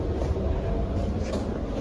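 An Indian Railways train running, heard from inside coach B134: a steady, loud low rumble and rattle of wheels and carriage that carries on without break, with no voices.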